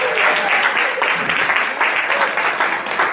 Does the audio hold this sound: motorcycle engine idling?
no